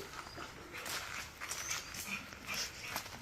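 A dog, likely a Labrador at a kennel selling breeds such as American Bully and Husky, whimpers in short, soft yelps against a noisy, busy background.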